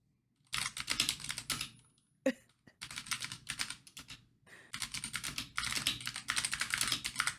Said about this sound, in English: I was typing in chat.